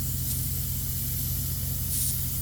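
A Rain Bird rotary sprinkler nozzle sprays water in a steady, continuous hiss, with a low hum underneath and two brief brighter bursts of spray.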